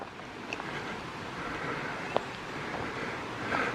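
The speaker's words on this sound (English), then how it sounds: "You can hear the water back here. There's a creek." A mountain creek with small waterfalls running in rough uphill terrain near Luray, Virginia, a steady soft wash of flowing water heard from a short distance, with faint occasional clicks.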